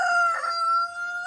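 A pet rooster on a small hobby farm crows once, a clear, loud, drawn-out call close by with no talking over it.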